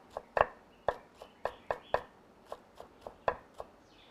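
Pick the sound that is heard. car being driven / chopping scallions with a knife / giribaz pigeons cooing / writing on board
chopping scallions with a knife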